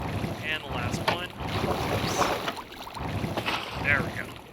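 The last water bucket is emptied into a shaft in Minecraft, making a continuous close rush of flowing, splashing water with a few brighter trickling accents.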